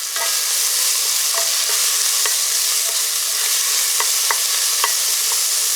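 Turmeric and curry powder stirred in a pan for South Indian tomato rice, a constant loud sizzle with sharp scrapes and clicks of the spoon against the pan scattered throughout, close up.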